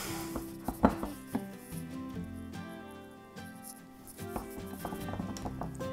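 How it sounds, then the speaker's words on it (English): Wooden stir stick knocking and scraping against a jar while sourdough starter is mixed and flour lumps are cleared off, giving a run of close, uneven taps and scrapes with one sharp knock early on. "Trying to get all the lumps of flour off my stir stick."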